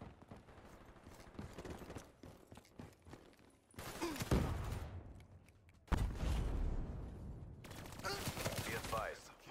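Automatic gunfire from a deployed sentry gun in a team deathmatch video game, loud rapid bursts in three long stretches over a background of scattered in-game noise.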